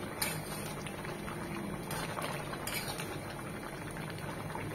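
Tripe (beef stomach) simmering in a covered pot, a steady soft bubbling and gurgling that runs through the whole stretch at low, even level with no talk.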